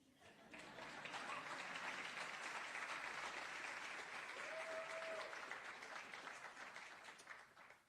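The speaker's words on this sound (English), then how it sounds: "You can clap for that." Faint applause from an audience at a talk swells up quickly, holds as a dense, steady wash of clapping for several seconds, then tapers away.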